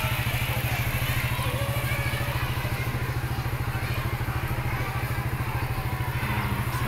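Several motorcycles idle together at a school pickup, a steady, close, rumbling engine drone with rapid low pulsing running unbroken throughout, with faint clatter and crowd murmur in the background.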